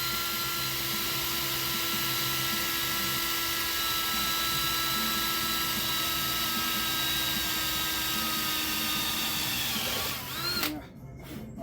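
A power drill bores steadily into metal during a motorised bike build, whining loud and continuous, then winds down abruptly near the end as the bit breaks through.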